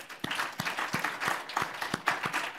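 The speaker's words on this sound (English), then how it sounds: "Please join me in a round of applause for our experts" Applause from a small audience after a panel discussion, sparse with distinct individual claps in a loose rhythm, fairly quiet.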